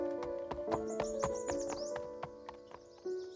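A horse in an animated children's story set in a farmyard, with hoof clip-clops and a short whinny, alongside bright tonal music and birdlike chirps, no talking.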